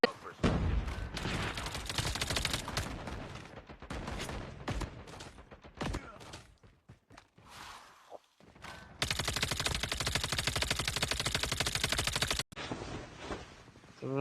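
Rapid bursts of video game gunfire from a mobile shooter match, loud and dense, with sustained automatic fire running several seconds, brief pauses between bursts and a player talking over parts of it.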